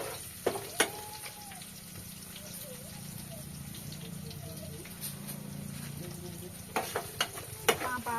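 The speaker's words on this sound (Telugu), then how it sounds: "బాగా ఫ్రై చేసుకుంటున్నాను." Bay leaves and whole spices fry in a pan, a soft continuous sizzle with stirring clicks and a few sharp knocks, while voices speak quietly in the background.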